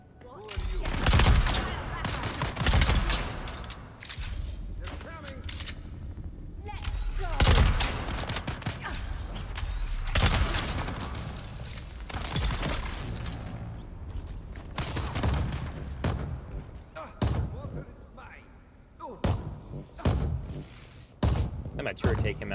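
Automated turret in the Dune Awakening video game firing bursts of gunfire, a sharp irregular rattle of shots with thuds mixed in, loud and close over background game sounds, with a voice talking at points.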